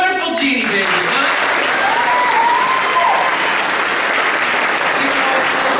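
An audience breaks into sustained, dense applause, loud and close, while someone speaks over the clapping.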